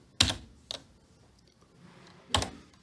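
Typing on a computer keyboard, three separate sharp keystrokes close to the microphone, with gaps of quiet between them.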